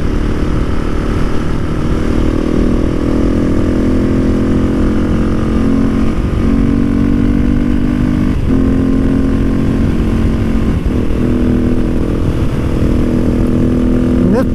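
A motorcycle fitted with a Wings aftermarket exhaust drones steadily and loudly throughout the ride, its engine note holding an even rumble with slight shifts in pitch and no voices over it.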